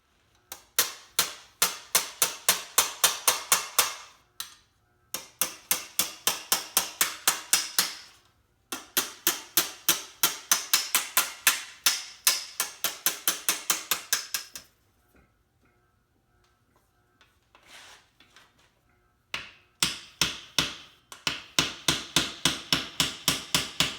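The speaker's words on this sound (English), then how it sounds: "here we're using the reciprocating hammer to give the louvers some more shape." A reciprocating power hammer shapes metal louvers, hammering in loud, rapid bursts of evenly spaced blows, each run lasting several seconds with short pauses between and a longer quiet gap midway.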